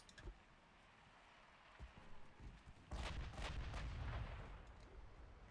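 High explosive shells fired from warship guns in the Ultimate Admiral Dreadnoughts video game: faint distant booms early, then a louder sustained rumbling roll of gunfire and blasts through the second half, no talking.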